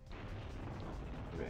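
A grenade blast in the shooter game 007: Agent Under Fire, in the Night of the Jackal mission, fills the clip as a dense, sustained rumbling roar with no clean onset; a voice may be faintly present underneath.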